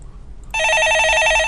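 A telephone bell rings on a stock-market call-in radio show, starting abruptly partway in and sounding as a loud, steady electronic trill that pulses rapidly and continues to the end, with no voices over it.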